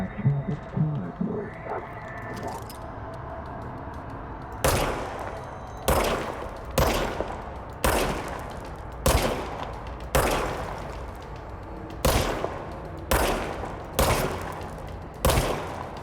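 Gunfire in the video game Control comes as a series of about a dozen booming single shots at roughly one-second intervals, loud and echoing, following quieter game sounds at the start.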